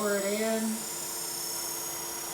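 A homemade wood-burning wire tool switches on, giving a short rising electric whine that settles into a steady high-pitched hum and buzz.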